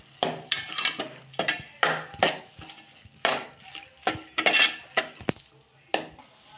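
Clam meat being stirred with spice paste in a pan, loud repeated scraping and clanking strokes of a utensil against the metal in an uneven rhythm over a soft sizzle.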